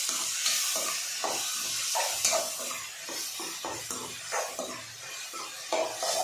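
Dried fish thokku cooks in hot oil in a pan, giving a steady close sizzle and hiss with soft stirring scrapes throughout, no voices.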